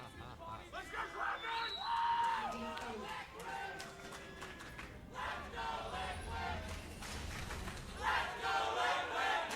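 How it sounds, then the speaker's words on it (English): Large esports arena crowd at a League of Legends NA LCS Spring 2016 match between Cloud9 and Team Liquid, chanting and cheering in swelling waves, with loud rhythmic shouts over a dense roar of voices. "A lot of the crowd wanting to go Liquid."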